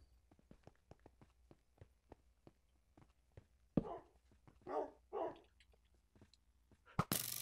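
Dogs barking in the video game Minecraft, several short yelps and barks in a cluster midway, over a faint run of ticking footsteps, fairly quiet overall.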